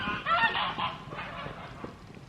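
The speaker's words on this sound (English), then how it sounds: "Nathan just feeding the geese." Geese honk in a loose cluster of calls while being fed outdoors, the loudest burst early and later honks trailing off more faintly.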